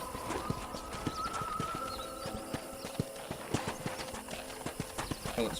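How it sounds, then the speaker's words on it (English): Horse hooves clip-clop in a steady trotting rhythm while riding in the Red Dead Redemption video game, close and continuous, with a brief whinny and ambient game sounds underneath. "let's see if you can still ride a horse"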